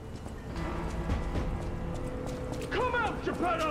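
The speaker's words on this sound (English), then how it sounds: "Where's the donkey stuff? Donkey?" Donkey hooves clip-clop in the dark fantasy game Lies of P, a rhythmic clopping at moderate distance joined late by whinny-like calls over other game sounds.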